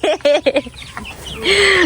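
Domestic chickens give a few quick, close clucks, then one hen's drawn-out, louder squawk or cackle rises at the end.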